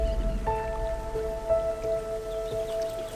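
Light rain begins pattering around a walking safari in the grassy Okavango Delta of Botswana, soft scattered drops under a faint steady tonal hum, with no voices.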